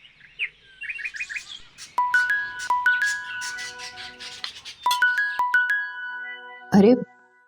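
A mobile phone ringtone chimes in a drama scene, a repeating electronic melody of bright tones that starts and stops in bursts, followed by a short voiced sound at the end.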